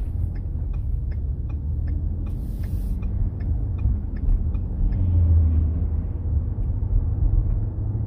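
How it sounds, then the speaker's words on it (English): A Ford Explorer with a transmission or torque converter shudder, not a misfire, is driven, giving a steady, loud low engine and road rumble with no voices. "the vehicle's shuttering right now, and there's no misfire"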